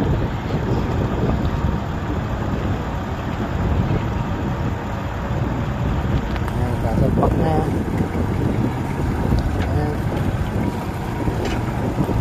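Steady engine drone of a small boat on open water in Australia's Northern Territory, with wind buffeting the microphone throughout and no talking.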